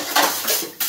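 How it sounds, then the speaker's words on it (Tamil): Pots, pans and cutlery clatter and clank while dishes are washed at home, three quick loud bursts of metallic knocking close by, with no voices. "பாத்திரம் கழுவிட்டு இருக்கேன்."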